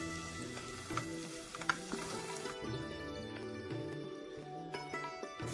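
Chopped onion fries in butter for dal bukhara, making a soft, steady sizzle close by with a few light stirring taps, quiet and without talk.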